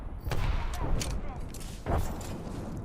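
Gunfire in the video game Apex Legends: several sharp shot bursts, a cluster early on and a stronger burst near the two-second mark, over a dense, steady noisy bed of battle sound.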